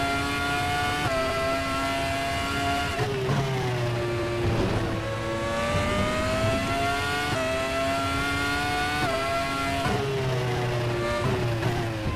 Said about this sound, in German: Traktionskontrolle ist an, wie ihr hören könnt.